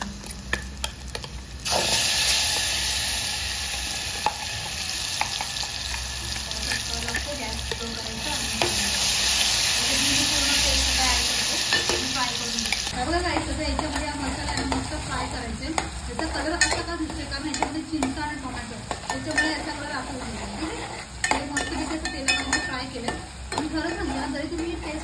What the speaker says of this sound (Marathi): याच्यामध्ये आता लसूण लगेच लाल झाली, तिथे तेल पूर्ण तापलं होतं